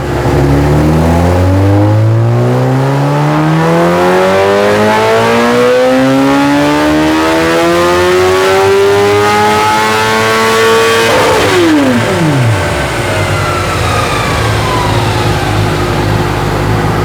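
A 2021 Kawasaki ZX-10R or Honda CBR1000RR-R Fireblade superbike with a flashed ECU and its exhaust valve held open in dynamic mode, revving hard and climbing steadily in pitch. It peaks loud around eleven seconds, then drops sharply back to idle, close and continuous.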